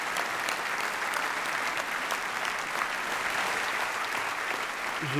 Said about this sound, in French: Je vous demande avec moi d'applaudir à nouveau Louis Vuitton pour la montre tambour Carpe Diem.